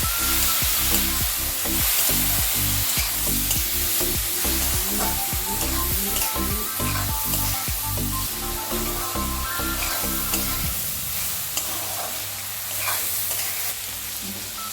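Green beans and potato cooking with turmeric, chilli, salt, cumin and coriander plus a splash of water give off a steady close sizzle, punctuated by rhythmic scraping stirs, then settle into a quieter bubbling fry for the last few seconds.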